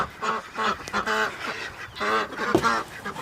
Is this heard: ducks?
yes